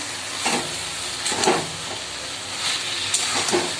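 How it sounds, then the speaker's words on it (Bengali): Ash gourd greens sauté in hot oil with a steady, close sizzling hiss, broken by several soft stirring scrapes and bursts of spitting. "দেখো কষা দিচ্ছি, এখনো তেলের উপরে আসেনি, দেখতেই পাচ্ছ কষানো হচ্ছে"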